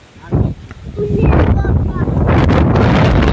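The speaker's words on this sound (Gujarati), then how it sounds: "પવન જુઓ તમે ખતરનાક પવન છે" Strong wind roars and buffets the microphone during a storm with flooding in Suigam, Banaskantha, building from gusts into a heavy, continuous rush, with a voice briefly audible underneath.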